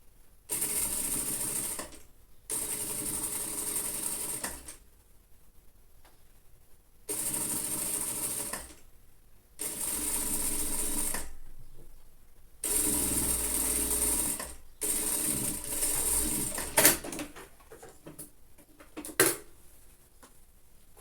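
A sewing machine stitching a collar onto a child's lined jacket runs in several bursts of a few seconds each, broken by short quiet pauses and a couple of sharp clicks near the end, with no talking.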